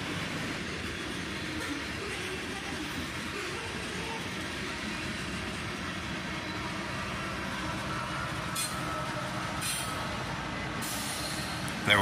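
A southbound freight train led by a single GP locomotive rolls past at a moderate distance, a steady low rumble of wheels and cars lasting throughout with no talking.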